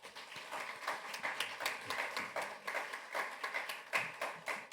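Light, uneven clapping from a small audience welcoming a university president as guest speaker at a school chapel service, individual claps distinct and fairly close, lasting a few seconds.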